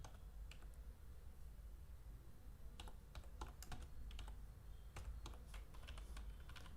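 Quick, irregular clicks of a computer keyboard as C# code is typed, the keystrokes arriving in short bursts over steady low room hum with no talking.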